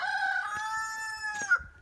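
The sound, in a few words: backyard chickens, rooster crowing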